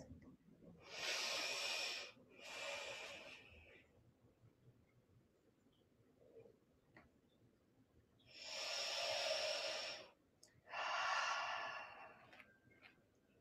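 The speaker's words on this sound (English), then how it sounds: "Breathe as you explore, about 5 slow breaths." Slow, deep breaths taken during a yoga pose, four long airy exhalations in two pairs with quiet pauses between, close and soft.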